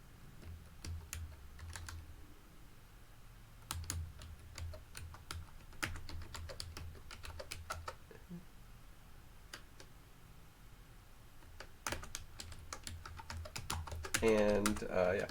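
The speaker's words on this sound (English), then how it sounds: "Is my keyboard working?" Quiet typing on a computer keyboard, scattered bursts of clicking keystrokes with pauses between, heard close up alongside a man's occasional speech and faint background hum.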